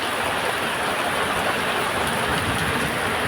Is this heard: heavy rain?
yes